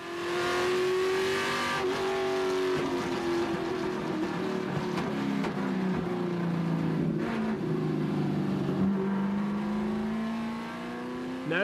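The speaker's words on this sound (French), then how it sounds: "la ligne droite devrait permettre à sa voiture allégée et forte de ses 550 chevaux d'accélérer pour dépasser les concurrents" Ford Mustang race car, lightened and rated at 550 horsepower, accelerating down a track straight; a loud, steady engine drone with rising and falling pitch sweeps fills the whole stretch, without talk.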